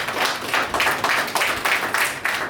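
Audience clapping at a Bharat Vikas Parishad Lakecity association meeting, a steady round of applause from many hands with rhythmic surges, continuous and fairly close throughout.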